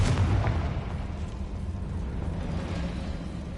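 A Confringo explosive spell blast in Hogwarts Legacy, a broad booming burst with a low rumble that swells at the start and then decays into a sustained noisy tail.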